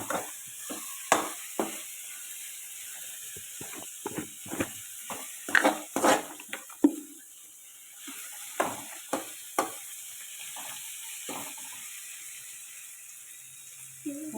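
Egg podimas scraped and stirred with a spatula in a pan, a steady run of close, sharp scrapes and taps over a soft sizzle, with a few quieter pauses between strokes.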